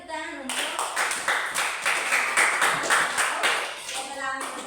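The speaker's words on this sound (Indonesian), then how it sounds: "Oke, mari kita tepuk tangan untuk" Classroom clapping from a group of students, a burst of dense, overlapping hand claps lasting several seconds, moderately close, with a voice briefly heard at the start and end.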